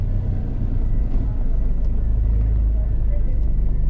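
A car pulls hard from speed in a traction test, its engine a loud, steady low roar and rumble that holds throughout, with a voice talking over it.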